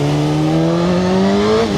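A Suzuki GSX-R1000 motorcycle with a new chain revs loudly and steadily, its engine pitch climbing smoothly before dropping off at the end.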